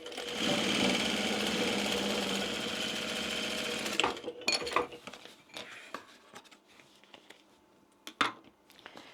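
Sewing machine running steadily for about four seconds while stitching a zipper onto a fabric bag, a close, fast mechanical whir that stops abruptly, followed by scattered clicks and clinks of handling the fabric.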